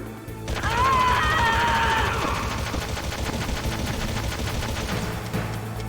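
Sustained automatic gunfire in the 1998 PS1 game Metal Gear Solid, a loud, dense rattle of rapid shots running nearly six seconds without pause, with no one talking over it.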